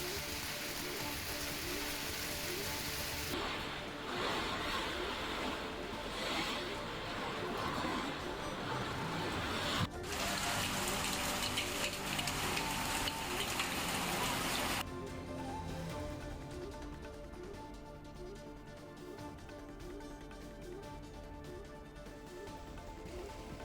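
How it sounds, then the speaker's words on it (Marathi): Heavy unseasonal rain falls over farmland and orchards in Jalgaon district, Maharashtra, a dense, steady downpour that continues throughout and thins slightly toward the end. "अवकाळी पाऊस जोरदार झालेला आहे"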